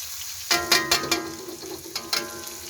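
Garlic dropped into a hot pan bursts into sharp sizzling crackles, with several distinct spatters and clatters over a quiet background.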